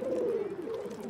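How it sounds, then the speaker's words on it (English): Pigeons give a short, low, throaty coo that is close and fairly loud, with slight background noise underneath. "It's crawling with pigeons and covered in their..."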